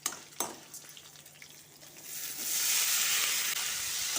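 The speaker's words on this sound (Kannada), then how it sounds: "ಇವಾಗ ಟೊಮೆಟೊ ಮತ್ತು ಆಲೂಗಡ್ಡೆನ ಹಾಕಿ ಫ್ರೈ ಮಾಡ್ಕೊಳ್ಬೇಕು" Tomato and potato added to green chili and ginger in a hot pan, starting with a few close clinks and stirring scrapes, then swelling into a loud, steady hissing sizzle.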